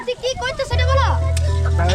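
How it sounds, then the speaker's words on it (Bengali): Food sizzles and hisses in a hot pan at an outdoor picnic, a steady loud fry starting partway through, with faint voices and clatter in the background. "ভাজাভাজি কাজ চলছে"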